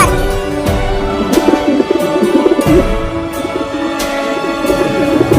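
A cartoon pigeon coos in low, rolling, throaty notes, repeated over a tonal, music-like background with soft thumps, loud and close.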